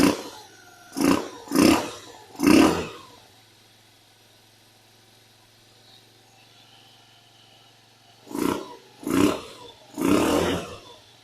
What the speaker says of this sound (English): It starts even without a filter